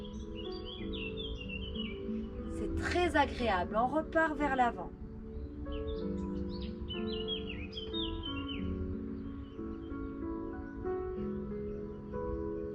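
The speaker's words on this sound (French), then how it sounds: "vous allez entendre les oiseaux qui tournent autour de la maison" Birds chirp and call around a house, with a burst of squawking and scattered tweets that stay faint and distant beneath calm spoken exercise instructions.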